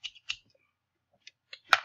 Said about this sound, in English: Next, I have some scissors.